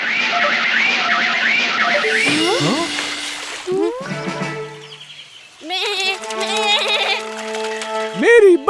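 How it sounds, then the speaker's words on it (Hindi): A cartoon goat gives several wavering bleats in a Hindi children's animation, loud and close, mixed with other animated voices and effects. "बकरी।"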